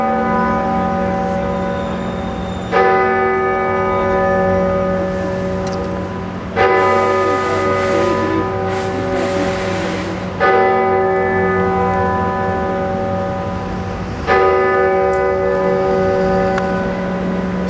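Church bells ring out in a series of loud, sustained chimes, each new strike entering about every four seconds and layering over the long resonant hum of the previous ones, with no voices.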